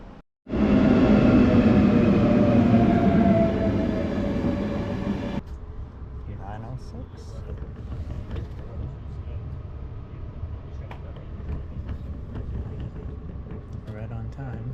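A train arrives at a station in Portugal: a loud rumbling roar cuts off after a few seconds, leaving a steady lower rumble with clatter and faint background voices.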